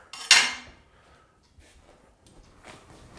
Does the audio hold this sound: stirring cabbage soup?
yes